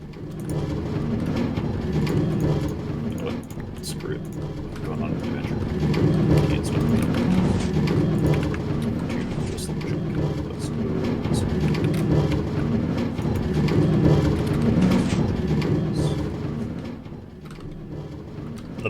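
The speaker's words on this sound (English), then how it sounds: "The pumpkin and melon farm is very loud when you're standing right next to it." Automated pumpkin and melon farm machinery in a video game produces dense mechanical clatter, with pistons and blocks clicking and thudding steadily and loudly close by, without a break.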